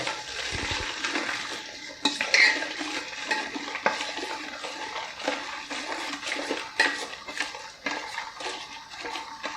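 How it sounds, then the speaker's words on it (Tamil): A spoon scrapes and swishes through a thick Multani mitti soap mixture in a pot, giving a steady, close stirring sound with occasional louder knocks against the metal and no voices. "இதில் ஒரு இருபது நிமிஷம் கிண்டிட்டு இருக்கணும்"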